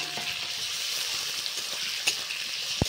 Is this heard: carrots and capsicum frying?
yes